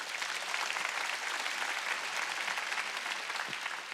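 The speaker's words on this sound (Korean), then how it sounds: "박수 좀 쳐줘요" Congregation applause during a Wednesday church service, a dense, continuous roar of many hands clapping at an even level throughout.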